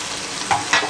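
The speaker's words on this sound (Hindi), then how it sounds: "अब मैं इसमें फ्राई किए हुए चने डाल रही हूँ" Fried chickpeas stirred through masala in a pan, with a brief hot sizzle and two quick scraping strokes of a spoon.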